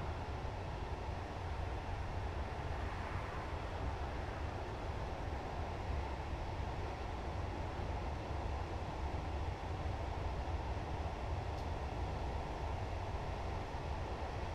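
A train in the game Train Simulator 2022 runs on a route from Berlin Hauptbahnhof toward Jüterbog, giving a steady, dense rumble of wheels and motors that stays loud and even throughout, with no voices.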